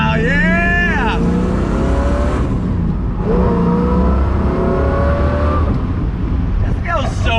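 A 1966 Corvette Stingray with a 427 engine accelerates hard through the gears with the top down, its loud engine note climbing in pitch with each gear and dropping at the shifts.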